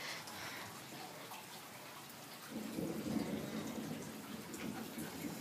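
Thunder from a passing thunderstorm, a low rumble that swells in about halfway through and rolls on over a steady hiss of rain.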